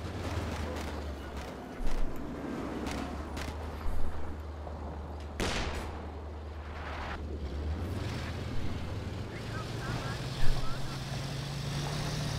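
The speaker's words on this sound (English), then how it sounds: "Taking counter fire from enemy armor." Enemy tank fire in the Company of Heroes 2 strategy game, several distant cannon booms and bursts of gunfire over a low engine rumble, with someone talking over the top.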